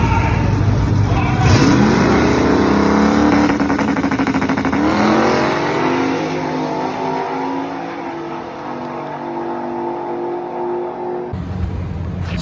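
A drag-prepared street car revs hard and launches in a heads-up race, its engine note climbing through gears with a loud, rising roar that stays close and sustained before easing off near the end.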